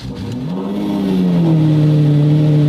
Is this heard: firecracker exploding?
no